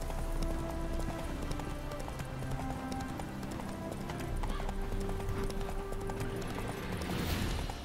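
Roach, a horse in The Witcher 3, gallops over a bridge with steady, loud clip-clop hoofbeats throughout, game music and ambience beneath, a faint whinny near the end.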